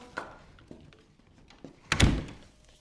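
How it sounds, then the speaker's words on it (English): An interior door is pushed shut over a resistance-band door anchor, a few light bumps and scrapes of handling followed by one solid close thud near the end, nearby and with no talk. "It's going to go behind my door, and then I'm closing my door."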